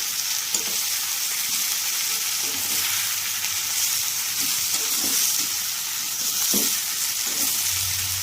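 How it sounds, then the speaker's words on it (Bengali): Vegetables and flattened rice are stirred in a hot pan, with a continuous sizzle and repeated scraping strokes of the spoon at an uneven pace, close and fairly loud, with no voices. "এবার এগুলোকে ভালো করে মিশিয়ে নিতে হবে সবজির সাথে"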